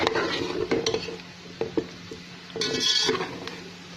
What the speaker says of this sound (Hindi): इसको डाल के मैं थोड़ा सा मसाला भूनूंगी